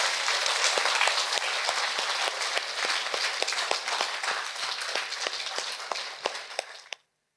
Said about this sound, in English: Bravo, applause.